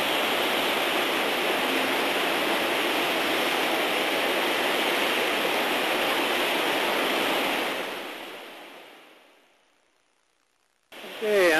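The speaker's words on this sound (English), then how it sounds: "this water from the Fraser River is coming right up to the trail" Fraser River floodwater rushes near the Quesnel bridge with a loud, steady broadband roar for about eight seconds. The roar then fades out to near silence before a brief burst of noise returns at the end.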